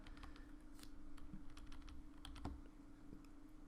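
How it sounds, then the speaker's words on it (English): HTML code is typed on a computer keyboard, with a quiet run of irregular key clicks over a faint steady hum, close to the microphone. "Let's write some HTML code here."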